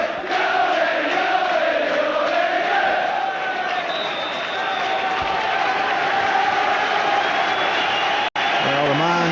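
Loud stadium crowd noise at a Scottish Cup football match as a substituted player leaves the pitch, a broad sustained roar of applause and cheering heard at a distance beneath continuous commentary.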